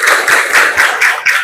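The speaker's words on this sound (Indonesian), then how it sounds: "Tepuk tangannya." Primary school children in an Islamic religious education class clap their hands together in a quick rhythmic pattern, about six sharp, close bursts in a steady beat.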